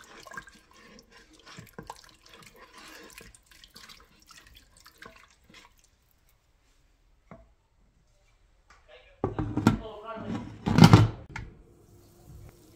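After quiet clicks and light handling noises, water pours into a cooking pot in a splashing burst for a few seconds, close by, then stops.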